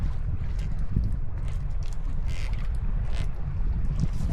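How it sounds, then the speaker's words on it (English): Steady wind roars and buffets across open sea with whitecaps while a sailboat lies hove to in light-to-moderate conditions, a continuous low rumble of gusts and wind noise with faint water sounds and no speech. "And this is decent wind. It is windy."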